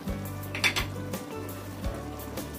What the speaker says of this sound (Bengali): আমি এবার আবার ঢাকনা দিয়ে ঢেকে প্রায় 5 মিনিট রান্না করে নেব।